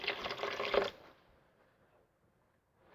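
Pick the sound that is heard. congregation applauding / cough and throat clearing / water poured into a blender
water poured into a blender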